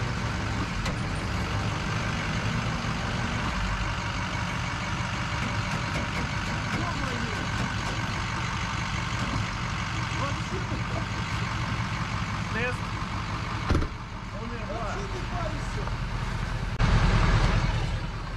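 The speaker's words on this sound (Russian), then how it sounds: "Пробую я фордом поднять этот Титаник" A Ford factory-built tow truck strains to lift a heavy load on ice, its engine droning loud and steady under occasional talk, then revving harder near the end.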